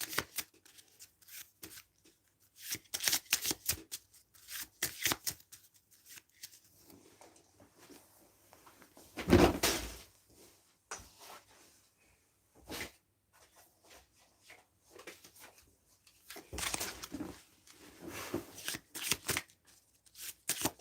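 Power of Chakras oracle cards are shuffled in bursts of quick, close riffling, with repeated bouts separated by quiet pauses.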